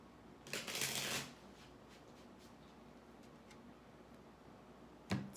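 Tarot deck shuffled in a short burst of close papery riffling, followed by a long quiet stretch with faint ticks and a final brief card slap.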